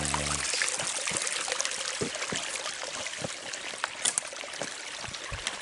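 Shallow stream water flowing around both sides of a rock, a close, steady babbling trickle with small splashes and no speech.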